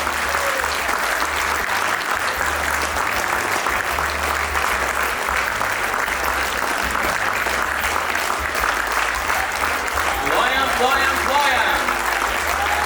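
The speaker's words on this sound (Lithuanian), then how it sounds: "Negailėkime plojimo." Continuous, full-hall applause from the audience at a children's choir anniversary concert in Gargždai rolls on steadily, with a voice rising faintly over the clapping near the end.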